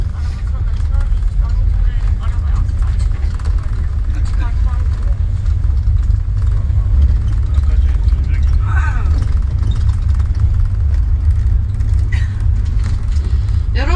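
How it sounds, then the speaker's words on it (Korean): Tour bus engine rumbling steadily at the port town of Assos, Turkey, a continuous low drone throughout with people talking over it. "저희 일행이 탔던 버스입니다."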